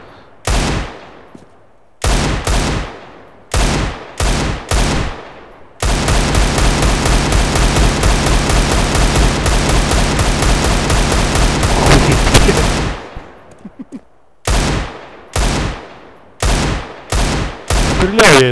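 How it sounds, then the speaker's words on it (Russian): Desert Eagle pistol fire in the video game CS:GO: loud, sharp single shots spaced apart, then a long dense stretch of rapid repeated firing, followed by more single shots. "Стреляю я из этого дезертыгла в объекте. Хороший пистолет."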